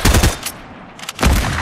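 Rapid gunfire bursts from a multiplayer shooter game, loud and close, with two dense volleys separated by a short lull.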